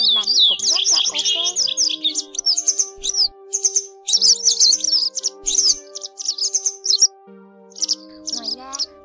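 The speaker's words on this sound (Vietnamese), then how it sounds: "bản tiếng chim này" Recorded calls of yellow wagtail and white wagtail, played as a bird-trapping lure: dense bursts of high, sharp chirps and twittering song repeating continuously and loudly, with a faint steady tone underneath.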